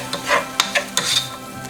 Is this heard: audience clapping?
no